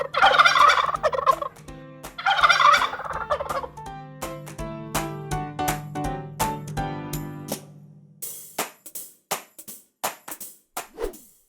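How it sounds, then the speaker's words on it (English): A turkey gobbles in two loud, rapid rattling bursts, followed by a series of sharp knocking taps that fade toward the end, with no talk. "Turkey."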